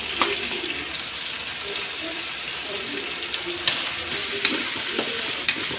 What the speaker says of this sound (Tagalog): I-mix natin mabuti para mawala yung lansa. Igisa natin.